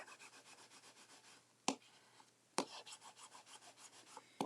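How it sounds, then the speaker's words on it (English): A folded paper pocket envelope notecard being burnished, a soft, quiet, rhythmic rubbing in quick regular strokes, broken by a few sharper taps or scrapes, with no talk. "Give that a good burnish."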